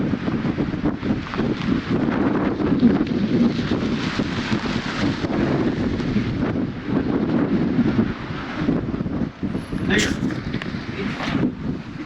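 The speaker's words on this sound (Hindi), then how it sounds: "हवा बहुत तेज चल रही है।" Strong wind buffets the microphone in a continuous loud, gusting rush in a Himalayan valley near Chitkul on the Baspa river, with a voice speaking briefly under it.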